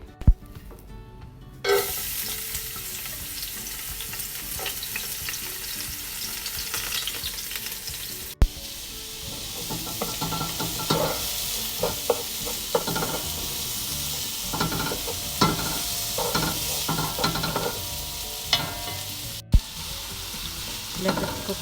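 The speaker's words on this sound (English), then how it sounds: "Then when it gets hot, we put the onion and the garlic." Onion and garlic sizzle in hot cooking oil in a pan for rice, a steady crackling hiss punctuated by stirring scrapes and occasional sharp clinks of a utensil against the pan.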